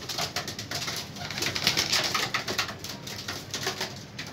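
Young pigeons that have been given medication coo and call continuously at close range, a dense, steady flock murmur with no talking.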